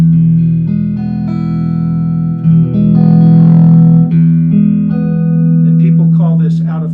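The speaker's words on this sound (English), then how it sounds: "Now listen in between the two, and you can hear both pickups." Electric guitar with neck and middle pickups combined gives sustained, clean chords that ring loud and close, changing every second or two, with a brief picked flourish near the end.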